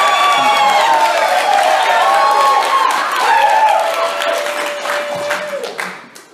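An audience claps and cheers in a lively burst that fades at the end, with shouts and whoops over the applause.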